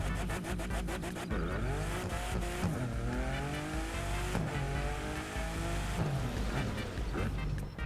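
A car engine in The Crew Motorfest racing game revs up and down through gear shifts, loud and continuous, with brief tire squeals and rising pitch sweeps.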